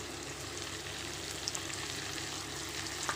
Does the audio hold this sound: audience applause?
no